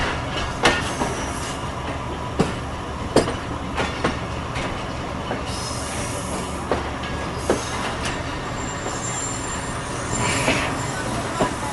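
Pakistan Railways 1Up Khyber Mail pulling into and leaving Samasata station, with a steady rumble of rolling cars, repeated wheel clicks and sharp metallic knocks, plus faint distant voices.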